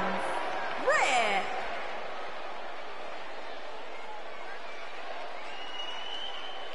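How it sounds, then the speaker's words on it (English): Arena crowd noise in the wrestling video game WWE 2K19, a steady broad roar of cheering with a brief rising whistle-like swell near the start, continuing evenly throughout. "it sounds to me like the crowd is more than ready for this one"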